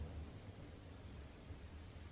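Rain falling with distant low thunder in a Sleepy Hollow adventure game, a quiet uniform patter over a deep murmuring rumble, unbroken and free of speech.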